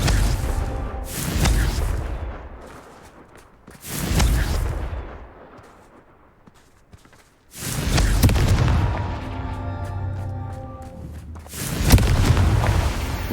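Repeated Confringo fire spell blasts in the video game Hogwarts Legacy: heavy booming explosions in several loud bursts separated by brief lulls, with crackling debris and game effects, no talk.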